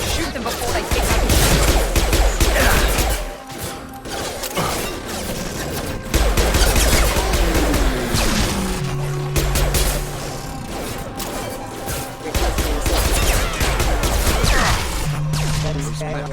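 Shooting at hostile mechs in Mass Effect 2: loud, dense volleys of gunfire and clanking impacts come in sustained bursts with short lulls, close up and dominating the mix.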